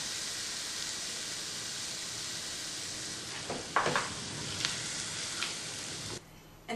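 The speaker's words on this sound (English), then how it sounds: "Just going to give it a quick 30-second fry. Alright, we're ready for the onions." Onions hitting a hot pan and starting to fry for an Indian egg keema, a soft steady sizzle with a few sharper crackles and stirring clatters partway through.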